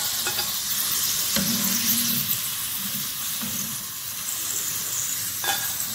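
Bitter gourd slices fry in hot oil with a constant, dense sizzle, close by, while a few light knocks and scrapes of a utensil sound against the pan; nobody speaks.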